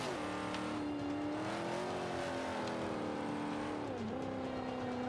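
A GMC van's engine drones steadily as it drives a racing circuit in Forza 5, pitch rising and falling through gear changes and corners, continuous and close with no talk.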